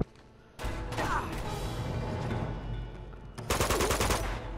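Rapid automatic gunfire bursts loudly in the Uncharted video game, a dense sustained volley after a quiet start, then a second harsher burst of shots near the end.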